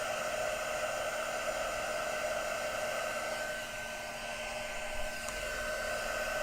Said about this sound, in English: this is a lot of embossing, so just bear with me for a moment